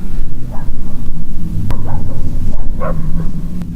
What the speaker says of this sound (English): The dogs are going crazy, bro.